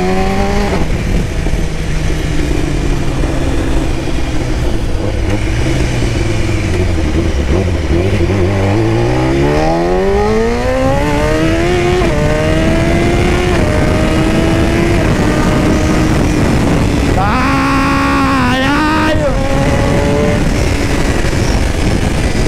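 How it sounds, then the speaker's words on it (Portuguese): A BMW S1000RR sport motorcycle fitted with an Atalla stainless steel header and an Origem end tip runs loud and close, its engine revving and climbing hard through rising pitch sweeps, easing off and surging again, with no talk over it. "Então é isso, BMW S1000RR, coletor Atalla, usando a ponteira Origem."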